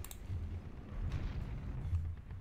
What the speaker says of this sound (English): Why does it already sound like there's gunfire going off?